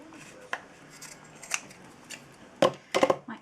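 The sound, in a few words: trimming the edges of a junk journal tag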